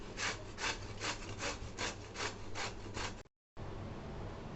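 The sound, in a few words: grating bottle gourd with a grater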